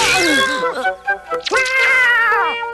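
A cartoon cat in a Tagalog-dubbed Doraemon episode meows loudly twice, long wavering cries with a short gap between them, close and clear with no talk over them.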